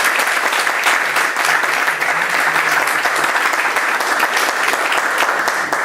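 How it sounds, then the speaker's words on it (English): An audience at a panel discussion on Islamophobia and British values applauds the speakers, a steady, even wash of clapping from many hands that lasts throughout. "let's have a collective round of applause for everyone's contribution"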